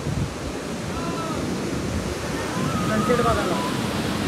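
Sea waves wash onto the shore near cement steps built for seating, a steady broad surf wash that swells slightly louder toward the end, with faint voices under it.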